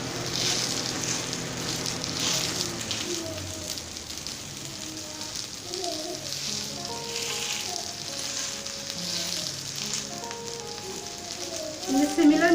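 Charppa flatbread sizzles and crackles in a pan with a steady frying hiss as it cooks after being flipped, heard close. Faint musical tones play underneath.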